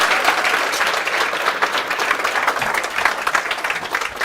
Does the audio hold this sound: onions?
no